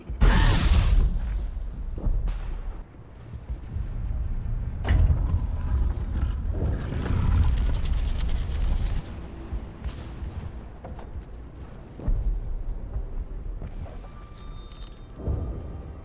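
Heavy booming blasts of a grenade detonation in the Mass Effect video game, with a loud burst at the start and more impacts a few seconds apart amid rumbling battle noise.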